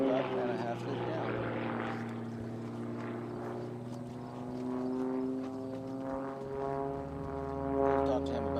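A powerful Gamebird aerobatic airplane flies loops at a national aerobatics competition, its propeller engine droning steadily with harmonic tones that swell and fade as it maneuvers, while a commentator talks over it.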